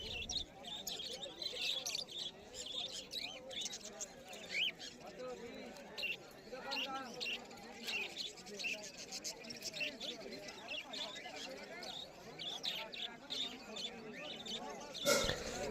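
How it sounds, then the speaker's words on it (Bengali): Budgerigars chirp and twitter in a dense, continuous flock chatter at a pet bird market in Uluberia, with busy crowd noise and voices mixed in. "এখানেও বদ্রি পাখির প্রচুর কালেকশান রয়েছে।"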